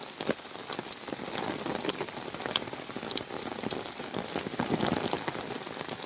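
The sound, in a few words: rain falling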